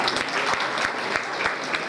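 An audience at a branch school event in Raptadu, Ananthapur, claps steadily in a short, dense burst of hand claps, close and even in loudness with no voices over it.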